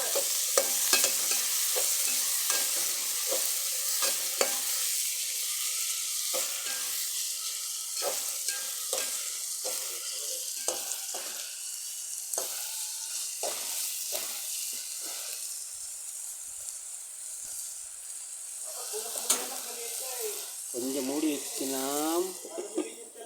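Bitter gourd and potato frying and being stirred in a pan for a Tamil-style curry, a steady sizzle broken by repeated scraping stirs, close up, with a bubbling burst near the end.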